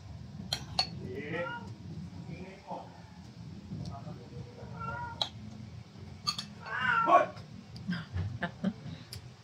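A cat meows a few times at close range, mixed in with people talking and steady background noise in a home.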